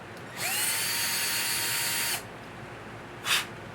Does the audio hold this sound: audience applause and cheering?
no